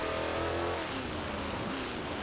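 A Ford Mustang's engine revs hard in the BeamNG driving game, a loud, continuous buzzy roar whose pitch sweeps and shifts for the whole moment, with no talk over it.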